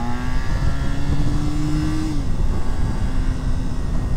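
A Honda VFR750R RC30 motorcycle engine accelerates while being ridden, its note climbing steadily before a brief dip, then pulling on, loud and continuous under heavy wind rush.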